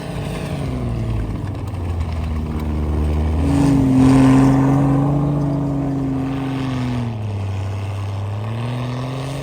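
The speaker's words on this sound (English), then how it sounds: "He's just drifting a snowcat." A snowcat engine driving and drifting: a loud, steady, droning engine whose pitch rises as it revs near the middle, then falls back to an even running note.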